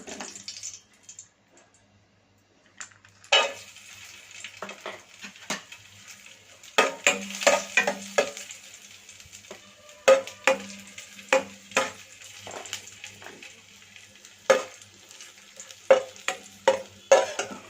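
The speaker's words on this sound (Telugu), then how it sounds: "ఇందులో ముందుగా మనం నెయ్యి వేసుకొని డ్రై ఫ్రూట్స్ అనేది వేయించుకుందామండి." Dry fruits frying in ghee in a hot kadai, with repeated bursts of stirring and scraping against the pan and a soft sizzle underneath. Loud clatters stand out against quieter stretches.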